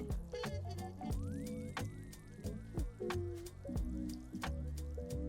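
Water poured onto freshly planted herbs in a pot, with repeated splashing, dripping and sloshing bursts at a steady, close range.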